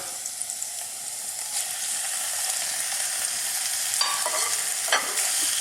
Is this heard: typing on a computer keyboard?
no